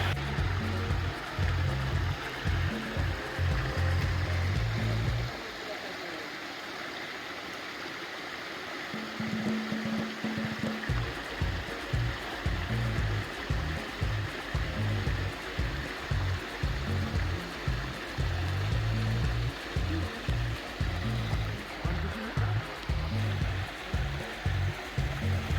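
A river in Jamaica flows steadily, its broad rushing wash close and constant, with low rhythmic thumps beneath and a brief dip in level partway through.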